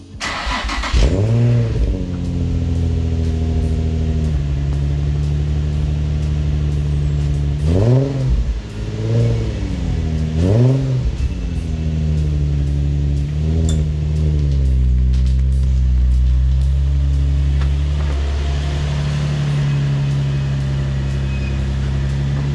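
A Nissan Skyline V35 with a VQ35DE engine, breathing through a generic muffler with a Holden Commodore tip, idles and then revs several times in sharp rising and falling bursts before settling back to a steady, loud idle.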